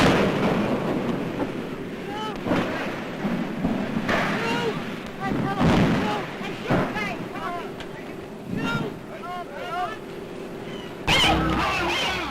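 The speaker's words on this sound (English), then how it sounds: "the actual crash of the Hindenburg, an airship destroyed in less than half a minute" Newsreel soundtrack of the Hindenburg airship exploding and crashing in flames in 1937, with a dramatic narrator's voice talking over deep booming rumbles, crackling bursts and a fierce roar throughout.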